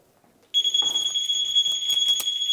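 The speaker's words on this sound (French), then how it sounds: "elle active ses warnings et elle peut même activer un bip sonore assez désagréable" Shrill, continuous anti-theft alarm beep from a Niu KQI Air electric scooter that starts abruptly and holds steady at close range, with faint clicks and rattles underneath.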